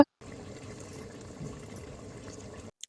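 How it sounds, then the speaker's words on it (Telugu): Thick fish curry bubbles and simmers steadily in a pot, a soft continuous gurgling heard close up for a few seconds. "మళ్ళీ బుడగలు వచ్చి భలే సౌండ్ అవుతుంది చూడండి"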